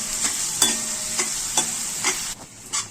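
Chopped onions and green chillies fry in a pan for fish kurma, with a steady sizzle under about half a dozen rhythmic scrapes of a spoon stirring against the pan.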